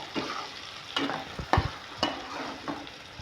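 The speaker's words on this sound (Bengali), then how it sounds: "বাদাম বাটা, টমেটো সস দিয়ে আমি ভালো করে এটাকে নাড়াচাড়া করে" Egg curry with nut paste and tomato sauce stirred in a pan, a utensil scraping in several distinct strokes over a soft sizzle, close and alone.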